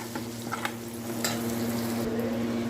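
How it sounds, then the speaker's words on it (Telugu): Food with slit green chillies and salt frying in a pan, a continuous close sizzle with a few light stirring scrapes and a low steady hum beneath, no voices. "ఇది ఇలా ఫ్రై అవుతుంది చూసారా"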